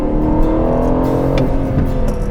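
An Aston Martin Vantage F1 Edition V8 pulls hard from inside the cabin, a steady loud engine drone that rises slightly as it accelerates, with no talking over it.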